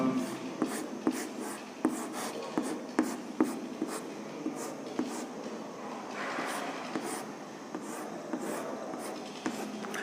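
Chalk or marker strokes scratch and tap against a classroom board as a 2D particle pattern for a chemistry lesson on solids is drawn, a series of short rhythmic strokes close by.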